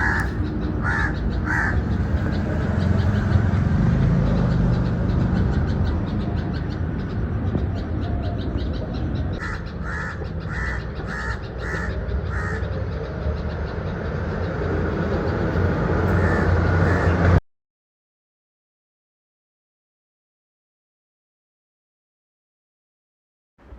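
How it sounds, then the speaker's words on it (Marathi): Crows caw repeatedly in bursts, with sparrows also calling, over a steady rumbling background for most of the clip, then everything drops to silence. "कंटिन्यू कावळा आणि चिमणी दोघेही ओरडत"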